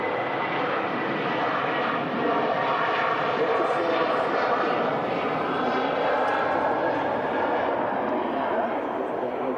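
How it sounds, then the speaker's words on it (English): Ryanair airliner departing Manchester Airport for Bratislava, a steady broadband engine roar that holds loud and constant throughout, with people talking over it. "Ryanair there, heading out to Bratislava"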